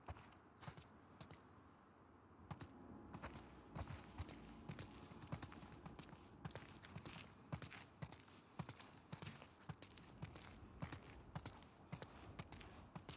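Horses in The Last of Us Part 2 walk with a steady, uneven clip-clop of hooves, faint and somewhat distant, accompanied by soft creaks of tack, with no talking.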